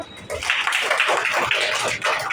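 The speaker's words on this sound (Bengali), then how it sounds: "ভেরি গুড হাততালি দাও" Children in a classroom burst into a short round of hand clapping, quick and lively, with voices mixed in.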